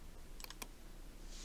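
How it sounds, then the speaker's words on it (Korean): Two quick key presses on a computer keyboard, pressing Enter while sketching in Inventor CAD software, land close together as crisp clicks over a quiet room hiss. "키보드에서 엔터키를 누르면 명령어는 실행되는 상태에서 다음 선을 그릴 수 있습니다"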